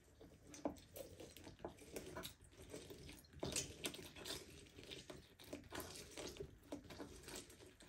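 Tap water runs and splashes softly while fresh turmeric and ginger are rinsed by hand, with faint irregular patter and drips close by.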